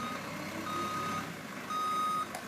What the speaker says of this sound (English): And look, here comes the tow truck.